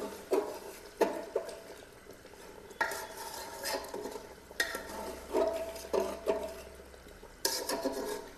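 Country chicken meat stirred and fried in a pot, a spoon scraping and clanking in repeated strokes over a steady close sizzle, with no voices.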